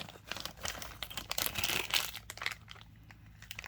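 Clear plastic packaging from a Barbie basics kit crinkles and crackles up close in a busy run of crumpling and snipping, loud in bursts then easing off near the end.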